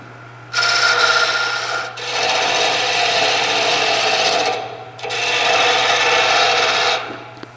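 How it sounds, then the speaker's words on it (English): A skew chisel cuts along spinning wood on a lathe to smooth the edge, making a loud, close, raspy rubbing hiss in three long sustained passes with short breaks between them, over a steady low motor hum. "At this point I'm going to switch to my Skew Chisel. This is going to create a bit of a smoother edge."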